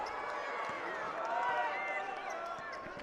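A crowd at a high school state semifinal basketball game reacts to an airballed free throw with a sustained, fairly distant mix of jeers and chanting voices, alongside faint court sounds.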